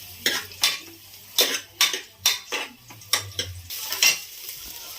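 A spoon stirs onions in hot oil for a sambar tempering, giving a run of about ten sharp scraping clanks against the pan in an uneven rhythm over a soft sizzle, close and loud, with no talk.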